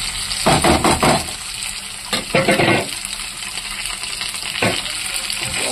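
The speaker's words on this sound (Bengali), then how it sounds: "রসুনটাকে সুন্দর করে লাল করে ভাজবো। আগে পেঁয়াজ রসুনটা লাল করে ভাজা হবে।" Onion and garlic frying in hot oil in a wok with black cumin seeds, a steady sizzle broken by several louder bursts of stirring and spattering near the microphone, no voices.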